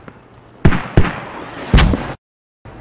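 Mortar fire in the video game Squad, a few loud, sharp booming launches spaced irregularly, each with a short rumbling tail, then a moment of silence.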